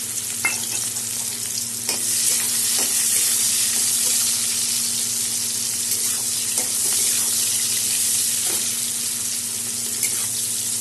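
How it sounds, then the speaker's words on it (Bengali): Chopped onion frying with chillies in a pan gives a steady, dense sizzle with occasional stirring scrapes, set over a constant low hum. "এখানে আধাটা পেঁয়াজ কুচি করে নিয়েছি, এটা দিয়ে দিলাম।"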